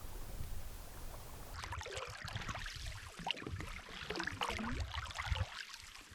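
Canoe paddle strokes on a calm unnamed lake in Nunavut, soft watery dips and trickles up close, faint and unhurried.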